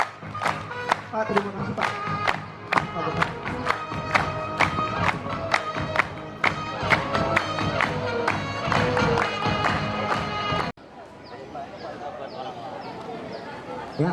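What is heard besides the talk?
audience applause for the school principal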